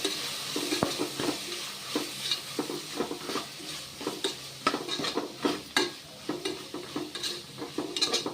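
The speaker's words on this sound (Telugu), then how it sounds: "ధనియాల పొడి 1 స్పూన్ వేస్తున్నాను. బాగా కలుపుకోవాలి." Coriander powder is stirred into a frying tomato rice mixture in a pan, with a soft sizzle under a run of repeated scraping strokes, steady and fairly quiet, close by with no talk.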